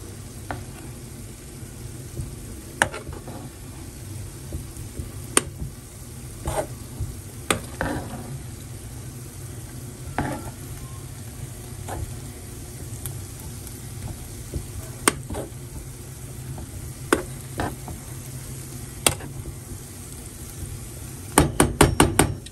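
Bean and rice mixture stirred in a pot, a low steady bubbling sizzle with scattered scraping clicks and knocks of the spoon against the pot, ending in a quick cluster of taps.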